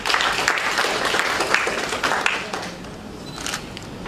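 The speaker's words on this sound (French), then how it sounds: "je vous demande de vous applaudir autant que vous êtes" An audience at a youth public-speaking contest gives itself a round of applause, with brisk, dense clapping that is loudest early, then thins and softens toward the end.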